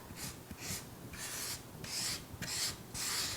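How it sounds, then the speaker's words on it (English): Brown ink pad rubbed over a painted foam surface, a soft, close, rasping scrub in repeated short strokes of roughly half a second each, quiet and steady with no voices. "I took a brown ink pad and very carefully began to rub it over the surface where I painted."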